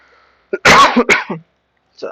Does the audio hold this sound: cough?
yes